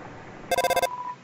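A telephone in the game Undertale rings in a quick burst of bright, evenly pulsed electronic trills, six or seven rapid beats in under half a second, then cuts off to a faint hum.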